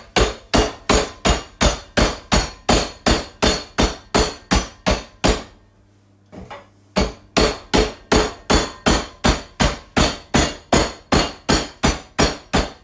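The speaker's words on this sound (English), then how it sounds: "beat the living daylights out of them with a rolling pin" Hazelnuts wrapped in a tea towel are bashed hard with a rolling pin in a kitchen. Loud, close, evenly spaced thuds fall about twice a second, pause briefly midway, then resume at the same steady pace, with no talking.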